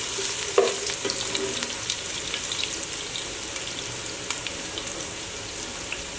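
Chopped onions fry in hot oil for beef dum biryani, a steady close sizzle and hiss with a single utensil clink near the start and light stirring throughout.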